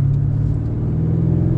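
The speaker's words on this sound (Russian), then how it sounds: "Ого, такой турбовый звук." BMW M5 tuned by Manhart as the MH5 700 with a turbocharged engine, idling in neutral with a close, loud, steady low burbling rumble that pulses evenly throughout, no voices over it.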